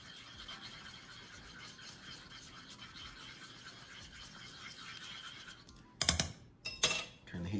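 Salt and pepper are whisked into a pizza sauce with melting Parmesan: faint, steady scraping and soft clinks of a whisk against the pot, then a few louder metallic clatters near the end.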